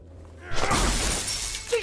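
An object smashes in the video game The Wolf Among Us, a loud crash of shattering glass with scattering fragments tinkling and clattering for over a second.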